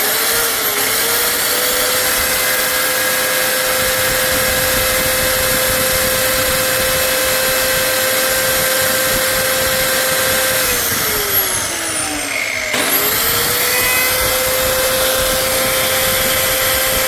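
A 670-watt H&L Pro 7-inch cut-off machine runs with a loud, steady high whine, slows briefly near the end, then spins quickly back up to full speed.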